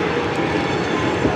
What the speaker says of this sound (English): What you're looking at right now is coal train 506 headed east with what appears to be a unit set of 5-bay hoppers.